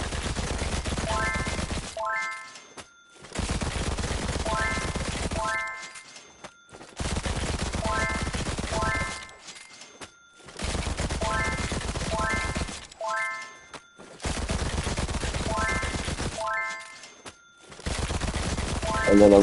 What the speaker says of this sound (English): just continue shooting the crate